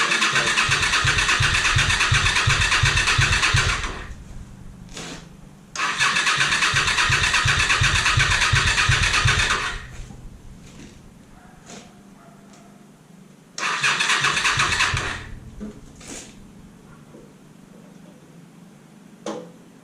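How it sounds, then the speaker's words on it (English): Honda Spada engine cranking on its starter motor in three separate bursts of rapid rhythmic churning, each lasting a few seconds, with quiet gaps and faint clicks between attempts; no voices. "I just don't keep winding it over and over and over, because that's not going to do your starter motor"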